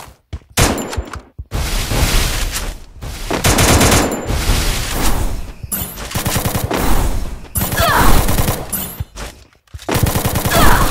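Rapid bursts of gunfire from a rush-type gun fired by a bot in a shooter video game, loud and close, coming in several long automatic volleys separated by brief pauses.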